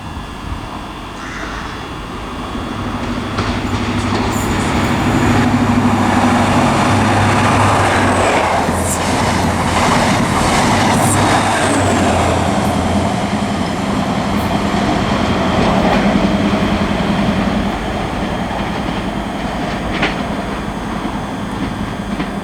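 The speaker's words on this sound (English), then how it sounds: "got our first HST, which is going to be from Glasgow Queen Street to Dundee," An HST (InterCity 125) express from Glasgow Queen Street to Dundee passes through Dunblane station, a loud, sustained roar of diesel power and rolling wheels that swells and holds for most of the pass with no talk.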